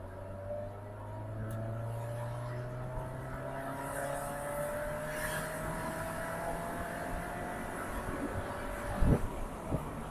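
Car engine revving hard to nearly 6,000 rpm under acceleration, pitch climbing steadily, heard from inside the moving car with road rumble, then a brief clunk.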